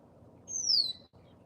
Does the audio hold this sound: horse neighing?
no